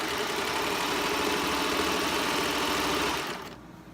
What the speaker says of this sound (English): Just sewed a little bit more here for you.